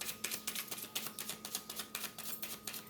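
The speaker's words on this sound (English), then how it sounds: "One more shuffle." Rapid crisp papery riffling repeated in quick bursts as tarot cards are shuffled close by, with no voices.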